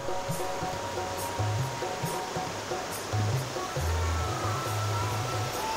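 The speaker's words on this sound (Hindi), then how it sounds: "आपको नज़र आ रहा होगा तालाब में पानी निकल रहा है।" Water pours constantly into the pond at Bhagsu Nag temple in Dharamshala, Himachal Pradesh, a steady, broad rushing close by with faint low rumbles beneath.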